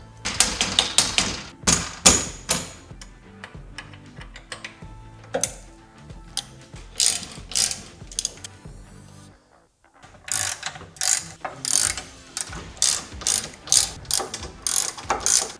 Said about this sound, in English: I'm gonna go through and center these crossbars and then tighten them down.